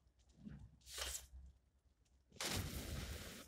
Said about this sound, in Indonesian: Wah gila meledak di belakangnya,